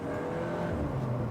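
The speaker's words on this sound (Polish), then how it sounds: "ta 2-litrowa jednostka brzmi na tyle przyjemnie dla ucha i ten wydech na tyle fajnie jest słychać tam z tyłu" Cupra Formentor 2-litre engine in Pure mode with its exhaust audible from the rear, a moderate steady rumbling drone held throughout, fairly close, without speech.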